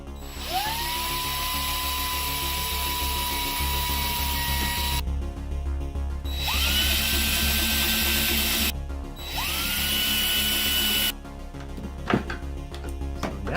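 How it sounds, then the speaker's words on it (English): A power drill whines at high pitch in repeated bursts, drilling magnet-sized holes in a game master screen, spinning up and running steadily between short pauses, close and loud. "I'm gonna have to drill holes the size of magnets there"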